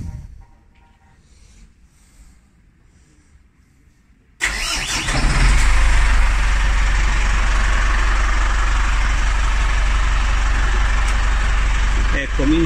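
A boat engine on a Cranchi 34 Zaffiro cranks and starts after a quiet stretch, then runs steadily and loudly at idle, close by.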